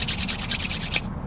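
Dry, ashy palms rubbing briskly together close up, a steady rasping friction swished back and forth for about a second before stopping abruptly.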